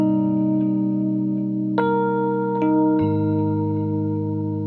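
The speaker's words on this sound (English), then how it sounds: "Quarter note delay." Piano in Ableton played through a quarter note delay, sustained chords with new notes entering in a few steps, each onset trailed by repeating echoes over a smooth, steady bed of tone, no voices.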